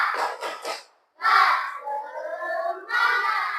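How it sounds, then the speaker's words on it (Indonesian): A school class performs a rhythmic clapping chant, tepuk semangat, in a classroom: bursts of claps and shouted children's voices in short patterned phrases with a brief pause, fairly close and lively. "Sebelum saya bagikan ini LKPD, tepuk semangat dulu."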